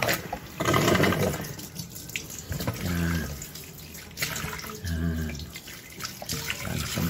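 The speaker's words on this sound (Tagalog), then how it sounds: "Tubig." Tap water runs into a sink while fish are cleaned by hand and gills pulled out, a steady splashing stream with louder surges, under a speaking voice.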